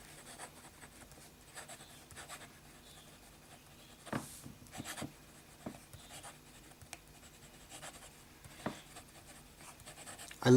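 A medium-nib fountain pen loaded with Visconti blue ink scratches across paper in soft, close strokes, with faint rhythmic scraping and small taps between words and no talking.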